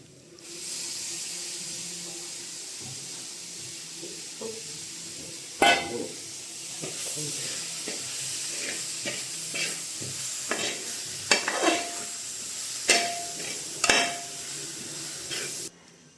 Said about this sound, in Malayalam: നമുക്കിതിലേക്ക് കുറച്ച് അരിഞ്ഞ് വെച്ച് തക്കാളി ഉണ്ട്. തക്കാളിയും കൂടെ വഴറ്റും.